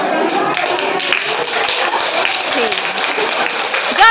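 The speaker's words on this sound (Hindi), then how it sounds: "तो सब दीदी हाथ खड़ा कर ताली बजावा।" Village women at a self-help group general meeting clap together, a continuous mass of hand claps filling the room with voices chattering on top of it.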